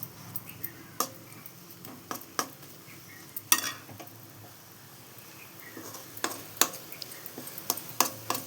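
Mango thokku (pickle) cooking in separating oil, stirred with sharp spoon scrapes and clicks at irregular intervals over a quiet, faint sizzle, no talking.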